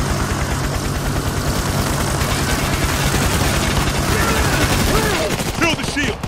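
Rapid automatic fire from a deployed sentry gun during a chaotic heist shootout in a video game, dense repeated bursts over a low engine-like rumble and clutter, with voices briefly heard near the end.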